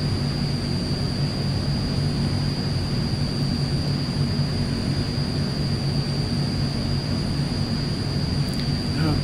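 A C-160 transport plane in a flight simulator, its twin turboprop engines roaring steadily at takeoff power on the runway, loud and constant with a high whine on top, no voices.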